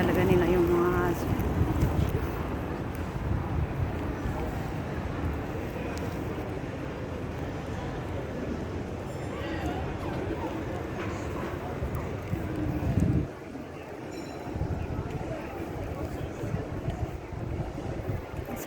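Breezy outdoor wind buffets the microphone in a continuous rough rumble, with people talking over it.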